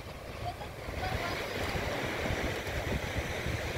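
Surf washing ashore at Bhogwe beach on the Konkan coast near Malvan, a steady broadband roar with some wind buffeting on the microphone, fairly close and continuous.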